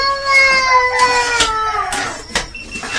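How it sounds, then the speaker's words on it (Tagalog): Cats fighting, with drawn-out yowls and wavering caterwauls, several long howls that rise and fall over about three seconds, loud and close, with sharp bursts between the cries. "May nag-aaway pa na pusa."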